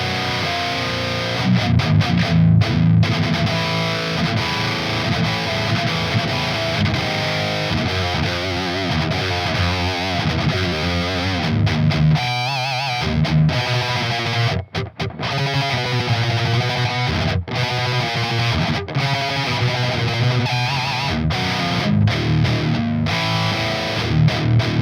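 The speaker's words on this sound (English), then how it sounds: "it's going in at the moment in distortion on the high gain one" Electric guitar played through a Driftwood metal amplifier on its high-gain channel, giving a thick, heavily distorted tone in loud, continuous riffs and chords, with brief choked pauses and no talking.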